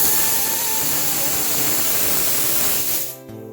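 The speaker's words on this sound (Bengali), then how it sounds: "কাঁচকলার আলু সিদ্ধ করেছিলাম সকালবেলা সেটাই ভাজছি মশলাপাতি দিয়ে সব মেখে নিয়েছি" Boiled green banana and potato, mashed with spices, fry in a pan with a loud, close, continuous sizzle. The sizzle fades out abruptly near the end.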